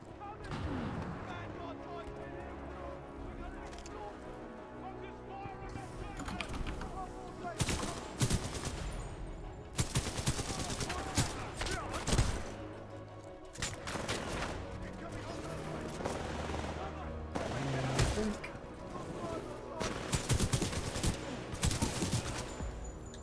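A Titan robot lays down supporting fire in the video game Titanfall 2, with repeated bursts of heavy gunfire and explosive booms spread through the scene, rising and falling in loudness over game noise.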